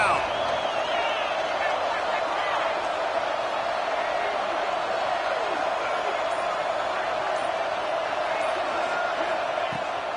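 Stadium crowd roaring steadily at a Texas Tech football game on a third down, a dense sustained wall of cheering and whooping from a large crowd heard at a distance throughout.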